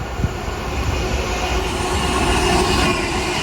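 A freight train passes through, a steady loud rumble and rolling clatter of wagons on the rails with a faint high squeal, close by and unbroken, with no voices.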